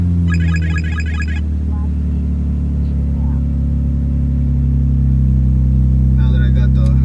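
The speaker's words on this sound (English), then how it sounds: "Now that I got the car started" A 2005 Infiniti G35 engine idles with a steady, loud low rumble after starting, and brief beeping chimes sound at the start and end.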